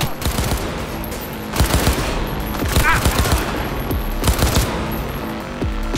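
Bursts of rapid automatic gunfire in Cyberpunk 2077, several loud volleys of close shots cracking over a din of game noise, with a few scattered single shots between them.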